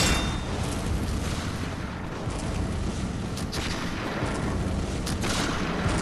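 Gunfire in the video game Bloodborne, a dense, continuous wash of loud rumbling shots and blasts with scattered sharper cracks.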